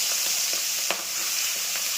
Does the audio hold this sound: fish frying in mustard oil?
yes